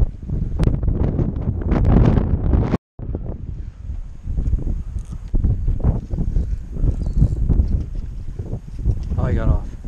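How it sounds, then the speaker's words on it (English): Gusty wind buffets the microphone with a low roar while people talk over it, at a reservoir while fishing for striped bass. "Windy."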